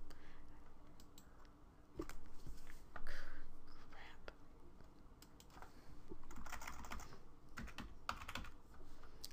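A computer keyboard is typed on at close range in a quiet room, with short bursts of soft, irregular key clicks and a faint whispery voice in the background.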